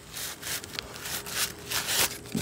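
A cloth is rubbed briskly back and forth to polish the casing of a 1970 Emerson Quiet Kool 18,000 BTU room air conditioner. Rhythmic swishing strokes come close and fairly soft, with no talk over them.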